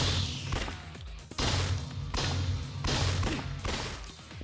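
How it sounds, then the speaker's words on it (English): Automatic gunfire rattles in the video game Yakuza: Dead Souls, with loud sustained bursts broken by brief pauses and no talk over it. "the ones that are moving, I'm just gonna have to shoot with auto fire"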